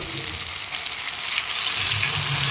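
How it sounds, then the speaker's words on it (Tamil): Needlefish (mural fish) fry in a pan with a constant, close hiss of hot oil, a steady sizzle that goes on throughout with no talking. "அது கூட வந்து முரல் மீன் வறுத்துட்ருக்கிறேன்."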